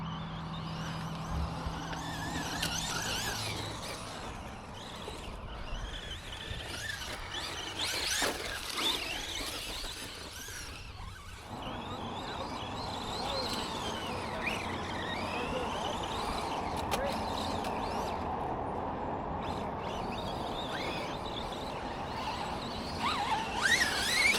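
Traxxas Mini Max 1/16 scale RC car run at full throttle, a high whining electric motor rising and falling as it passes, with tyre squeals and skittering on the ground, moderately close, people talking over it at times.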